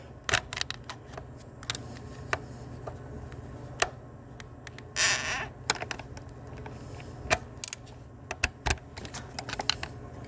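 Sharp irregular clicks and scraping from a screw being turned while a stuck PCV valve is pried out of the plastic valve cover on a Honda 1.5 turbo engine, close and fairly quiet, with a brief louder scrape midway.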